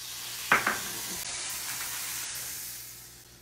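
Butter added to a hot crepe pan gives a soft, steady sizzling hiss, opening with a brief scrape or clack up close, then a quiet, even fry that fades slightly toward the end.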